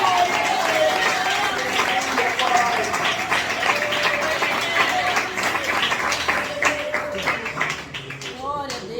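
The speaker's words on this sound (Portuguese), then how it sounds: "recebe e dá uma salva de palmas." A church congregation breaks into a round of applause during a sermon on Nehemiah 1, a sustained, lively clatter of many hands with cheering and crowd noise mixed in, then tapering near the end.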